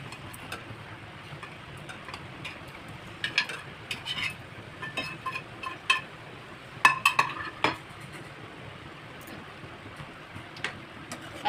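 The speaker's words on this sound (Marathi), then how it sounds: "आता मी हे पनीर घालते यामध्ये." Paneer cubes go into a pan of shahi paneer gravy made with sour tomatoes, with a spoon clinking and scraping against the metal in scattered knocks, clustered in the middle of the stretch over a low steady kitchen background.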